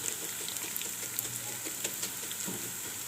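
Rice for a fish dish browning in a pan, a soft continuous sizzle with faint stirring scrapes, close and even throughout.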